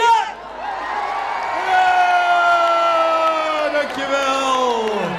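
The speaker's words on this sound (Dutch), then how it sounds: "Ik wil één goed applaus voor de volgende mens wat nu aan kan kondigen." A large festival crowd at an Oranje Zingt Zuid show cheers loudly in a sustained, tonal roar of voices that swells and holds for several seconds, with one brief shout at the start.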